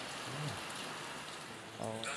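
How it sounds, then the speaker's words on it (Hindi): Steady rain falls outdoors during a foggy stay in Kashmir, a continuous broadband hiss with some faint voice-like sounds mixed in. "आज दूसरा दिन है, बारिश हमें बाहर नहीं निकलने देती।"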